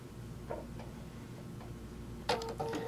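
A sewing machine runs a few quick bursts of stitches to tack a quilt seam at a quarter inch, with soft mechanical ticking and a louder burst near the end, no voices.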